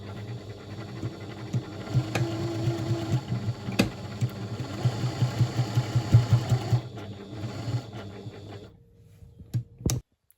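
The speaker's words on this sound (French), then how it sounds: "de façon à ce que votre pied presseur soit bien plat au moment de démarrer la couture" A sewing machine starting a seam on a leather-backed bow tie, a close rhythmic chugging of stitches for several seconds that slows and stops, followed by a couple of sharp clicks.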